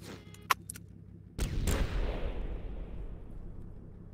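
A tank cannon fires in the video game Mud and Blood, sounding as a sharp, loud boom followed by a long rumbling decay, after a few small clicks and a faint crack earlier.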